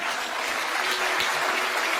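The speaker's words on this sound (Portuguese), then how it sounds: "com uma salva de palmas ao Senhor" Church congregation applauding after a sermon call, a steady, fairly faint wash of clapping lasting throughout with no voices.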